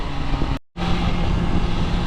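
BMW M 1000 XR motorcycle with a road-legal Akrapovic exhaust, a loud, steady engine roar with a brief cut in the sound near the start.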